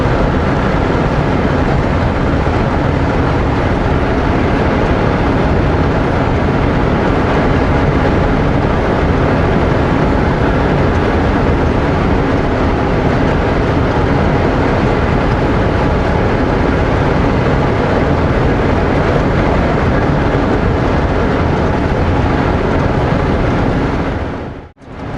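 Strong gusty wind sweeps across open prairie, a loud, steady roar of buffeting air that fills the whole stretch before cutting off abruptly at the end.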